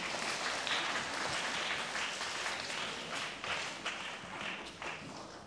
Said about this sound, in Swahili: tupiga makofi kwa Yesu jamani